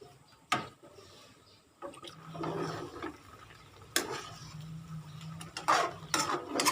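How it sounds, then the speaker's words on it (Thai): Water poured into a pot for simmering pork belly, with short splashing gushes between clanks and knocks of the pot and utensils, close by. "ติมน้ำให้เยอะหน่อยเลยเพราะว่าเราจะเคี่ยวหมูนะคะ"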